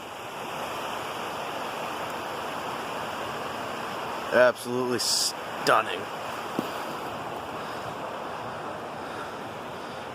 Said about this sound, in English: I found a little trail that led to this amazing river.